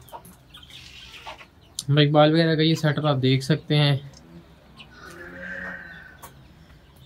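Aseel chickens cluck softly in the background while someone speaks up close for a few seconds.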